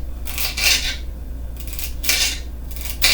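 Chef's knife slicing through a celery stalk on a cutting board, several crisp crunching strokes in an irregular rhythm, close and fairly loud with quiet gaps between cuts.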